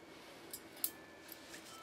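Faint, quiet snips of scissors, a few isolated metallic cuts spaced apart over a low background hiss.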